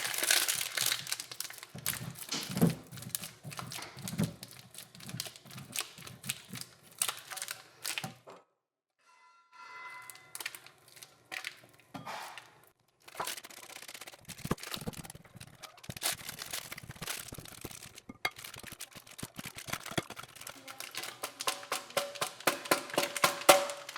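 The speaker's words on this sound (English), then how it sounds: "So I'm going to grate this cheese." Mozzarella cheese rubbed against a metal grater in rapid, crinkly scraping strokes, close and fairly quiet, pausing briefly midway before the rhythmic grating resumes.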